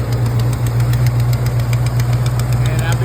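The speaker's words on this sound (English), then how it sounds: "So I have a nasty exhaust leak," A Dodge big block engine idles with a nasty exhaust leak, giving a loud, steady rumble with a rapid ticking pulse running throughout, heard close up and continuous.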